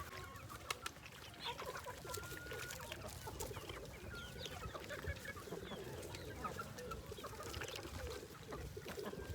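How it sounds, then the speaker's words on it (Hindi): Chickens cluck softly at their morning feed on an open farm, with faint scattered clucks over a steady low background rumble. "चिक्स का चल रहा है ब्रेकफास्ट"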